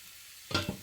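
Carrots fry in a pan, with a short, soft sizzle and stirring scrape that starts after a quiet moment and comes as two brief bursts.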